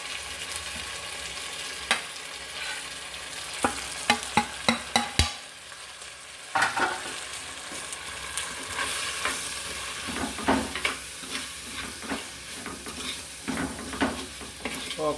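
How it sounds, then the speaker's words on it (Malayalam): Chili, coriander and turmeric powders fry in a pan for a Kerala fish curry while a spoon stirs them. The scraping strokes come in an irregular rhythm of sharp clicks and scrapes over a steady, close sizzle. "എല്ലായിട്ട് ഇളക്കുക."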